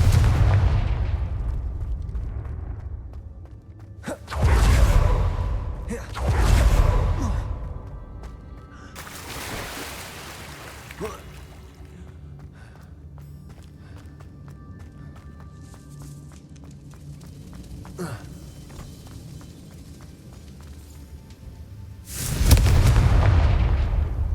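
Confringo spell blasts in the video game Hogwarts Legacy: a few loud, booming explosive bursts spaced through the clip, with a final blast near the end over a quieter ambient game background.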